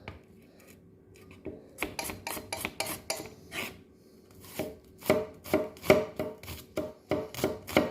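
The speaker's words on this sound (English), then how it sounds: "Now you can keep the onions as finely sliced as you want, or you can go as thick as you want." Knife slicing onions on a board for a steak stir fry, first a quick run of cuts and then a second steady series of crisp chops, close and clear, with no voices.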